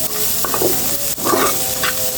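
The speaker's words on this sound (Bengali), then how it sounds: "আমি এই মশলার সাথে এটা সুন্দর করে ভেজে নেব।" Chopped banana flower fries with salt and turmeric in a pan, giving a loud, continuous sizzle while a spatula scrapes and stirs it in a few quick strokes.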